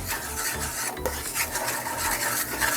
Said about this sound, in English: We're going to mix all this together.